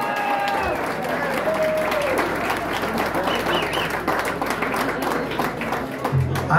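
Applause and cheering for drummer Brian Fahey at a live show, sustained dense clapping from the audience throughout, with a brief sustained tone at the start.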